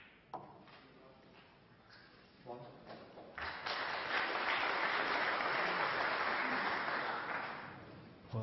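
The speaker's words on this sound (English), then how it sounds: "Well, just a smattering of applause." Applause at a snooker match between Mark Selby and Ronnie O'Sullivan starts with scattered claps, then swells into a steady, moderate ovation that holds for several seconds before fading, with a commentator's voice briefly over the start.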